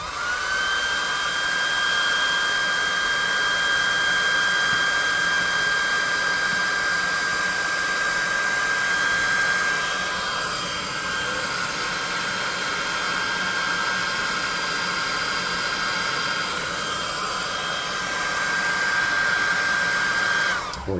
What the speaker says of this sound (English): I'm going to hit this with the +2 hot air gun of burning